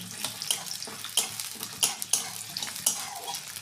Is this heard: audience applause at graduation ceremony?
no